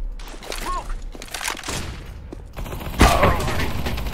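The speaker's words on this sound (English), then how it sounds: "Throwing a flashbang." A flashbang grenade goes off in CS:GO, a sharp bang about three seconds in, set amid busy game noise with earlier gunfire-like pops and chatter.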